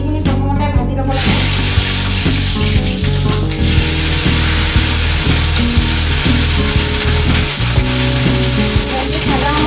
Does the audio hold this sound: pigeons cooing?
no